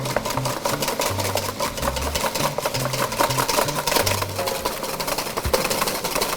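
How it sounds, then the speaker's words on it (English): A coffee grinder grinds coffee beans in a kitchen, giving a loud, continuous whirring and rattling buzz with pulsing low tones that run for the whole stretch without pause. "I'm gonna grind some coffee."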